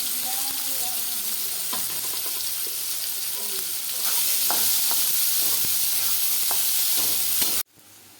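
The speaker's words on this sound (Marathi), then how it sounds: "कांदा टाकला मस्त भाजून घ्यायचा भरपूर असा कांदा टाकायचा" Plenty of onion frying in oil in a pan, a continuous close sizzle that grows a little louder midway, with occasional clicks of stirring before it cuts off abruptly near the end.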